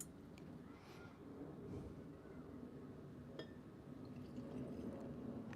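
Old Forester rye whiskey pours into a glass outdoors in the cold, a faint trickling splash with a soft clink of glass, quiet and close over light outdoor background noise.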